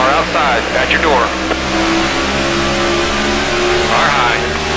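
NASCAR stock car engines roar at Michigan International Speedway in 2014, a loud, continuous engine drone with rising and falling revs as cars pass, under radio chatter from a spotter.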